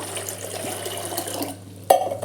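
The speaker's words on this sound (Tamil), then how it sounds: "தண்ணி ஊற்றி மறுபடியும் அடுப்பில் வச்சு ஊற்றலாம் தண்ணி ஊற்றிக்குவோம்" Water poured into a pot on a kitchen stove, a steady close pouring splash followed by a brief clank of the pot.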